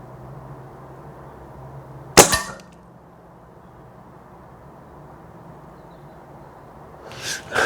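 A .177 Air Arms TX200 Hunter Carbine spring air rifle fires once with a sharp, close crack, and a second fainter burst of noise follows about five seconds later over a quiet background.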